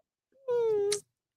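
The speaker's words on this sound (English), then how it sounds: "The kitties, please." A single drawn-out cat meow, close and clear, rising then holding steady for about half a second before ending with a brief breathy rasp, with no other sound around it.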